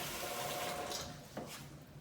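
Water runs from a kitchen tap as hands are washed, a steady close splashing stream that fades and ends as the flow is shut off.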